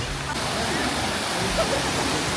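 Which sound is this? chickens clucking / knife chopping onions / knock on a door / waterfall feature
waterfall feature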